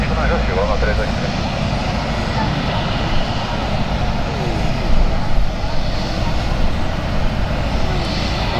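An Air Canada Boeing 787 lands at an airport, its engines producing a steady, loud broadband roar that holds throughout, heard from the ground without anyone talking.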